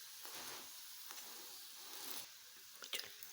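Aloo patha frying in a pan, its second side cooking, gives off a soft, steady sizzle with a few faint pops near the end.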